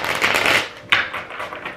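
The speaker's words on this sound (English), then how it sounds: "I just want to put on like rubber gloves to shuffle every time I shuffle this deck." A Modern Witch Tarot deck with stiff card stock is shuffled by hand, a dense papery riffling burst followed by a sharp snap and a softer rustle, close and alone.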